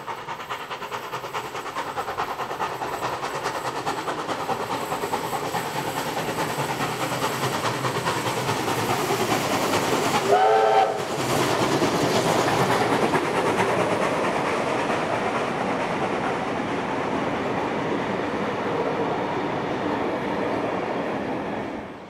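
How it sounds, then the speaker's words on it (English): Locomotive 3642 hauling its train through Stanwell Tops Tunnel in New South Wales, a steady loud rumble and roar that holds for the whole stretch, with a brief squeal near the middle. "we see the locomotive making its way through Stanwell Tops Tunnel."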